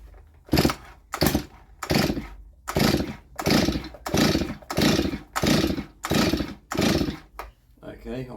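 A Stihl MS230 chainsaw is being started with the choke on. About nine rhythmic, close starter-cord pulls follow one another evenly, each a rough rising burst.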